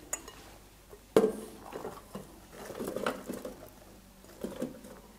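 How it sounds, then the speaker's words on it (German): Fresh strawberries tipped into a Thermomix mixing bowl land with soft, close thuds and light clattering against the container, including one sharp knock early on, with no talking. "Als erstes die Erdbeeren in den Mixtopf geben."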